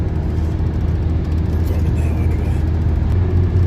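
A car drives along the road heading upstate, a steady close low rumble of engine and tire noise filling the cabin without pause.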